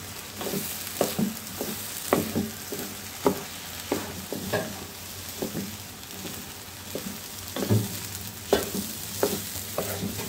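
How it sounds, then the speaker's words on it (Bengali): Rice stirred and mixed in a hot pan, a low sizzle broken by repeated scraping and clacking spoon strokes at an uneven rhythm, close and moderately loud. "চাল ভালো করে নেড়ে মিশাতে হবে ভালো করে।"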